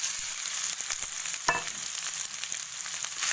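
Cooked rice stirred in a hot sizzling pan with peppercorns, making a steady close frying hiss with scraping stir strokes throughout, alone without talk.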